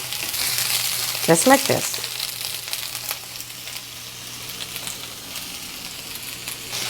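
Tomatillos, onions and serrano peppers roast and sizzle in a hot pan, a steady close crackle with a brief stirring clatter early on, while a voice speaks a few words.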